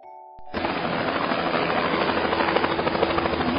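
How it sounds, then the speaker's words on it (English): A helicopter's rotors thump and roar in a dense, continuous wash of noise, loud and close for the whole stretch. "This is helicopter."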